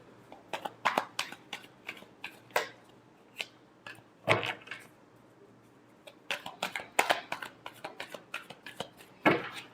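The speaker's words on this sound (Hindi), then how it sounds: "last shuffle" Tarot cards shuffled by hand in quick bursts of crisp riffling and flicking, with short pauses between flurries, close and fairly quiet with no talking.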